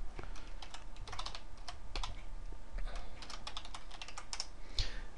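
Typing on a computer keyboard: quiet, fairly rapid clicking keystrokes in irregular bursts against a low background hum, with no talking.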